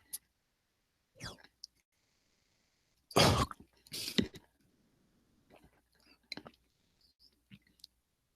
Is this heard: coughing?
yes